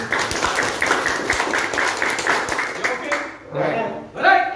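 Dense audience applause at a company promotion event in Indonesia fills the first few seconds with steady rapid clapping, then fades as a voice begins speaking.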